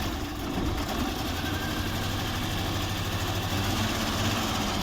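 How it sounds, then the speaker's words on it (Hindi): A Suzuki Ravi pickup engine with a misfire idles steadily and close by, a continuous low rumble with a slightly uneven pulse and no voices. "तो अभी हम गाड़ी को स्टार्ट करते हैं जी और चेक करते हैं।"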